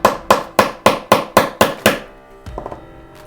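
Hammer tapping out a pin from a metal watch bracelet: eight sharp, evenly spaced metallic taps, close and loud, followed by a few quieter small clinks.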